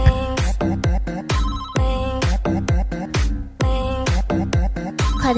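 A phone ringtone plays a loud, repeating melodic pattern of plucked-sounding notes, continuing alone without speech.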